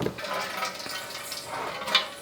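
Cooking water poured off half-cooked rice into a vessel, a steady close watery rush and splash running the whole stretch with a brief louder gush near the end.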